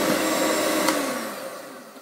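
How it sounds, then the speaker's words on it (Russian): An electric hand mixer whips egg whites for a cake, giving a steady high motor whir with a brief bright spike partway through, close and loud for a couple of seconds before the sound thins out. "начинаю миксером взбивать"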